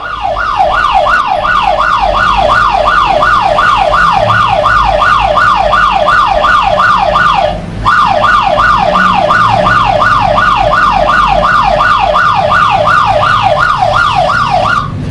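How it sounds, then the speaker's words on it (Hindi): A phone anti-theft app's loud, rapidly warbling electronic siren wails continuously, breaking off for a split second midway before resuming at the same steady pitch. "ये सायरन अपने आप ही ऑफ हो गया।"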